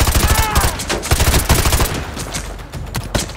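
Rapid gunfire from Call of Duty: Modern Warfare 2 Remastered, dense overlapping automatic bursts that are loud and close, with a brief sharp ringing tone near the start and sporadic shots continuing through the clip.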